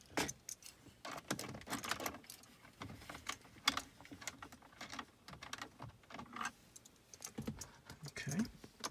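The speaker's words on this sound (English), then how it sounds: "I've already loosened those screws, so we'll just take them out the rest of the way." Small screws being backed out and lifted from the dash trim around a Chevy Cruze radio, giving light, close, irregular clicks and taps in quick bursts.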